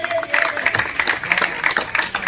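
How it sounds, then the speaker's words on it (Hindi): Audience applause at a Satrod felicitation ceremony in Haryana, a dense, steady clapping from the crowd filling the short stretch without a break. "एक बारी जोरदार तालियां विकास के लिए।"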